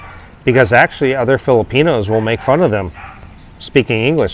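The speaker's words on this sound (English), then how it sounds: "sorry about the dogs" Dogs bark and yip in the background, intermittent and fairly distant, under continuous close speech from someone talking.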